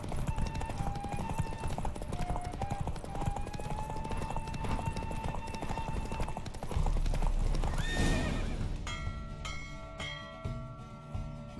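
Horse hooves clip-clopping at a steady gallop during a race in the video game The Witcher: Wild Hunt, loud and continuous with rushing wind, a whinny and game effects near the end, speech faintly underneath.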